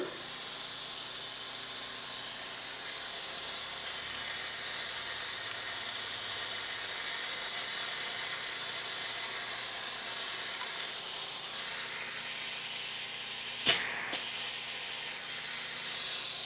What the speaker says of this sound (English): now I'm going to bleed off the pressures with my spray gun